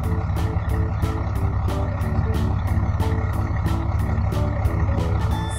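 Reversing beeps from a car carrier truck backing up, a steady regular train of evenly spaced beeps above a constant engine hum, loud and unbroken throughout.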